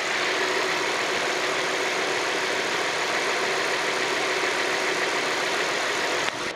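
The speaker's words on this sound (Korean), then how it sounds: "엔진 소리 한번 들어볼게요." A Hyundai Grandeur IG LPG 3.0 six-cylinder engine idles with the hood open, a steady, loud, even hum close by that holds without change for several seconds, with no voices.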